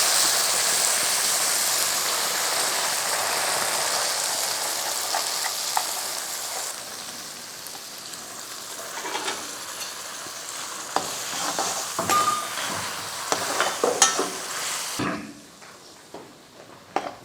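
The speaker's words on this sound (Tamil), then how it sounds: "நம்ம அரைச்சி வச்ச மசாலாவை இதில் சேர்த்துக்கலாம்." Ground masala paste sizzles as it is sautéed with sautéed small onions in a pan for a plantain curry, a strong hissing fry that fades to quieter sizzling broken by spatula scrapes and clatter.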